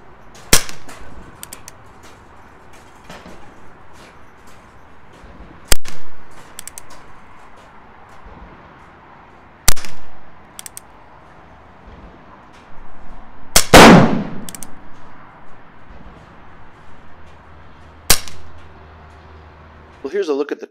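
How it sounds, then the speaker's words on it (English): Umarex Colt Peacemaker air pistol fired from a rest at an outdoor range, six sharp, loud cracks spaced several seconds apart, with someone talking quietly between shots and another gun heard once. "I'll take my first six shots from the Ransom Multi-Cal Rest."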